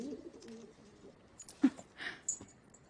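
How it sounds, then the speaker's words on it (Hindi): Messenger pigeons coo softly in a few short, separate calls against a quiet background, with some faint rustling nearby. "संदेश पहुँचाने वाले पंछी, वे इसका कारोबार करते हैं।"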